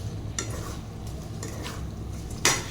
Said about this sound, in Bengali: অনেক ভালো করে কষাইছি মুরগিটা, ভাজা ভাজা হয়ে গেছে